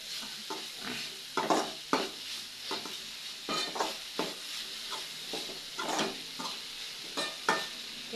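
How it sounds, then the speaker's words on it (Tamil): Dried neithuli fish being stir-fried in a pan, with a low background sizzle broken by repeated scraping and clinking strokes of a spatula against the pan at an uneven rhythm, close by. "நெய்த்துளி கருவாடு பொரியல் செய்கிறோம்"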